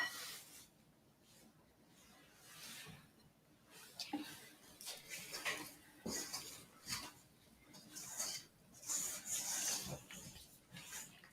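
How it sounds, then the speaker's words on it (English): A spatula scrapes down the sides of a bowl of chocolate chip cookie dough in slow, soft, repeated strokes, quiet and close, with faint rubbing textures. "I'm just scraping down the sides of the bowl again, making sure I have everything in here"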